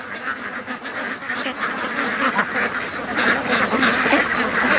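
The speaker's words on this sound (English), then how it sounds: "And the ducks are dispersing here" A flock of domestic ducks at a rural feeding spot quacks continuously in a busy, overlapping chorus, fairly close and steady for the whole stretch with no talking.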